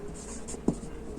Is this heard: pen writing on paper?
yes